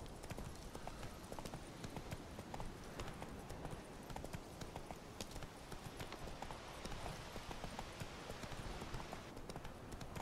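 Roach the horse gallops in Witcher 3, rapid continuous clip-clop hoofbeats at a steady rhythm, fairly quiet and unbroken, with no one talking.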